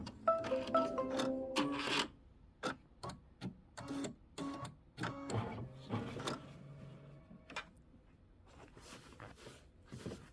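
An embroidery machine stitches a tack-down of red check fabric in a 5x7 hoop, giving close, rapid bursts of mechanical clicking and tapping with short irregular pauses between runs.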